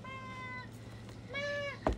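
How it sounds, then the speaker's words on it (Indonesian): A cat meows twice, two short rising-and-falling calls close by, separated by a brief pause, ending with a sharp thump. "Kucing itu Risha ya"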